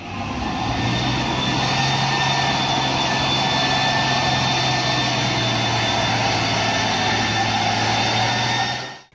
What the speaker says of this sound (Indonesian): Di sini ada mobil truk tangki.